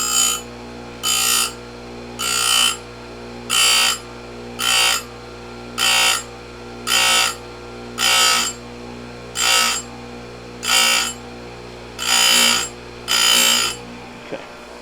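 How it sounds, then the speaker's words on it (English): Electric chain grinder sharpening an Oregon chainsaw chain, roughly a dozen evenly spaced bursts of bright, high-pitched grinding, each about half a second, separated by brief pauses over a steady low motor hum. "Now some guys take these grinders and reverse their direction"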